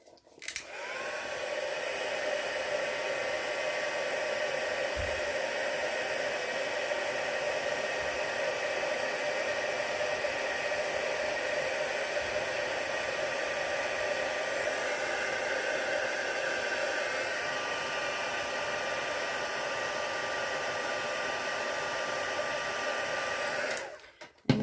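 A heat embossing tool blows steadily on a handmade birthday card, a continuous hair-dryer-like whoosh and hiss holding level for about 24 seconds before cutting off abruptly.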